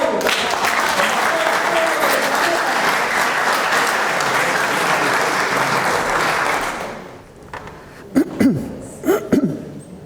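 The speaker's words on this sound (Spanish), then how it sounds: "Un aplauso para Rubén Jumbo." Audience applause fills the room at a talk on solar eclipses, loud sustained clapping for about seven seconds before fading out, followed by a few scattered coughs and throat noises.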